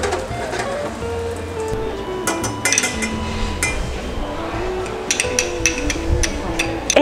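Food flipped in a pan during a South African cooking class, with metal utensils clinking and scraping against the pan in repeated bursts over a steady kitchen background.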